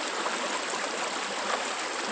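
Creek water rushing and babbling over gravel and black sand, a steady close broadband flow with no pauses and no voices.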